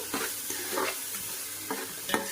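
Ginger garlic paste frying in a pan for a fish curry, a soft continuous sizzle with a few scraping stirs of a spoon, quiet and close.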